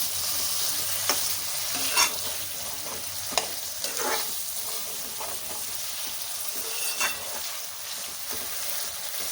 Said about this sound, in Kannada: ಸ್ವಲ್ಪ ಎಣ್ಣೆಲಿ ಬಾಡಿಸ್ಕೊಳ್ಳೋಣ. ಲೋ ಫ್ಲೇಮಲ್ಲಿ ಇಟ್ಕೊಂಡು ಬಾಡಿಸ್ಕೊಳ್ಳಿ.